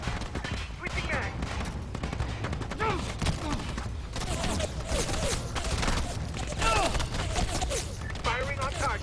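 Rapid bursts of gunfire from a tactical military shooter on a handheld console, with repeated shots crackling densely throughout alongside background game sound effects and occasional radio voice chatter.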